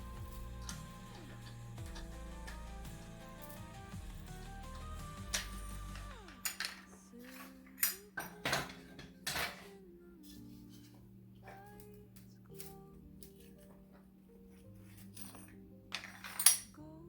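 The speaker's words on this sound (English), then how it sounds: "Grab the dice here first." Specialty dice being picked up and handled, giving a scatter of sharp clicks and rattles that grow more frequent in the second half, with a steady low background hum beneath them.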